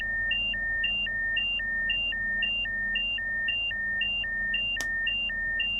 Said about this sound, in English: No, that's hazard lights.